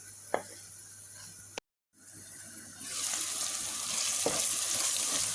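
Leftover stuffing frying in a pan to finish cooking: a steady broadband sizzle builds after a short silent gap, with a couple of faint clicks of a utensil, fairly close and without talk.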